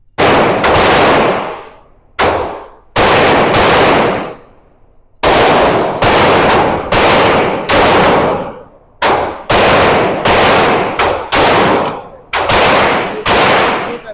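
Gunfire at an outdoor shooting range, loud close shots in a rapid uneven series with short gaps and a few quick doubles, sharp cracks with ringing tails, voices barely present.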